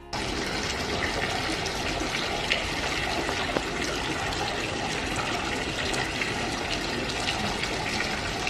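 Drinkable water gushes steadily from a public street fountain in Zurich, Switzerland, a continuous splashing rush that stays constant and fairly close throughout, with no voices.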